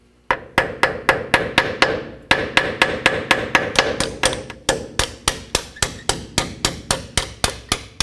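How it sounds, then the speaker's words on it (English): A hammer strikes the pins of a front brake caliper on a 2007-or-later Toyota Tundra, a long run of sharp metallic blows in a steady, evenly spaced rhythm, close and loud with brief ringing after each hit. "we're going to take a hammer and we're going to carefully hit on these pins right here"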